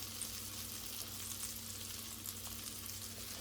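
Onions cook in a pan over medium heat, giving a soft, even, continuous sizzle that stays faint and unchanging with no voices.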